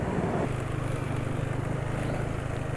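A loud, steady engine running on Shell Helix HX3 20W50 oil mixed with corn oil drones with a low, throbbing pulse, running unevenly and rough throughout, with no voices.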